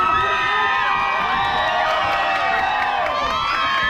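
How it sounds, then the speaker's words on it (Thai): Dense crowd cheering and shouting at a Thai boxing match in Song Phi Nong, Suphan Buri, a steady loud roar of voices and whoops that holds throughout with no break. "เสียงเชียร์เยอะจริงๆครับ"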